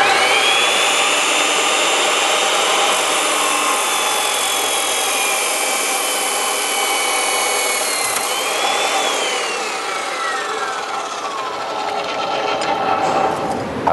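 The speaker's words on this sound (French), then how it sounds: "Puis, on descend la scie, on l'active et on descend graduellement." Power saw lowered gradually through a hydraulic hose clamped in a vise during crimping preparation, a steady loud whining buzz with a pitch sweep partway through, no talk.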